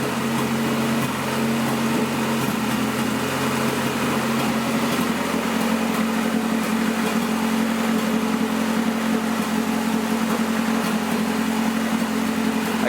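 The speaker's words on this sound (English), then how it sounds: "Now the car's cold right now, so it's gonna idle a little bit high" A cold turbocharged car engine from a budget turbo build idles a little high, a steady close, continuous hum with no talking.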